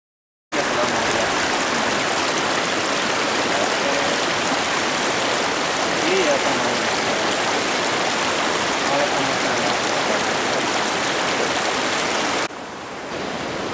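The Batang Ulu Gadut river rushes over a rocky bed in a steady, loud, broadband wash that fills the whole stretch, with no pauses.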